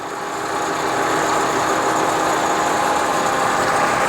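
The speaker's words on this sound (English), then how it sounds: "Now we have our thread screw running." GMC precision gap bed engine lathe, model GT-261, running in threading mode with the thread screw turning, a steady close mechanical hum and whir that settles to an even level after a brief rise.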